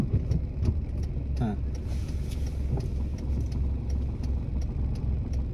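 A manual car is driven by a learner, its engine a low, steady mid-pitched hum with faint jingling, while people talk over it in the cabin.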